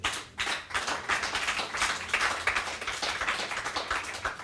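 A church congregation applauds to acclaim the word of God, with dense, sustained clapping from many hands filling the room, steady and loud throughout.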